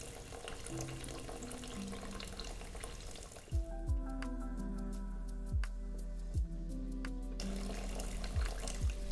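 Water runs steadily into a pot of rice, a continuous close splashing pour with a few sharp clicks of handling, with nobody speaking.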